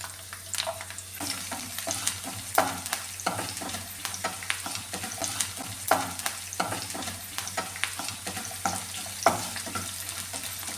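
Shallots sautéing in coconut oil in a pan, a continuous close sizzle broken by frequent rhythmic spatula scrapes and clinks against the pan, without speech.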